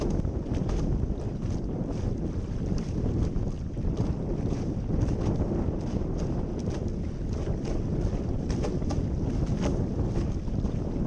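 A Blaze sailing dinghy in strong wind, gusts buffeting the microphone in a constant rumble over rushing water and hull noise, with steady loud turbulence throughout.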